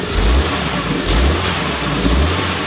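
A classic German car's engine running just after starting, a loud, close mid-range rumble that swells in three rhythmic revs over a steady idle.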